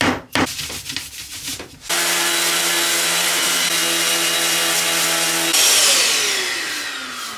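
Sandpaper rubbing steadily across a wooden drawer, first in a few short scrapes and then as a continuous close, loud sanding hiss that grows brighter near the end before slowly tapering off.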